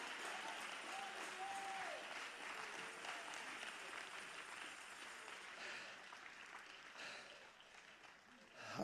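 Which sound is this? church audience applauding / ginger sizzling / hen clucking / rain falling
church audience applauding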